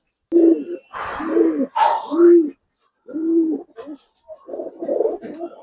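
A pair of silver Giribaz pigeons coo close up in repeated short throaty bursts separated by brief pauses, with some rustling between calls.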